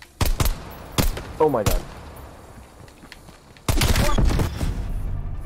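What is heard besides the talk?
video game gunfire, rifle shots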